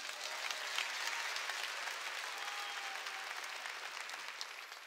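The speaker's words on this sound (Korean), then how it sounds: "깨달은 사람만 박수치라고" Church audience at a Korean sermon breaks into applause, a dense, even roar of many hands clapping, somewhat distant and sustained for the whole stretch.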